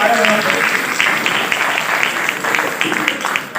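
An audience at a literary festival applauds, a steady wash of many hands clapping that holds strongly throughout, with a faint voice at the start.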